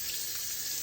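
Hot water runs steadily from a kitchen faucet into a sink for dish washing, a continuous close hiss without pauses.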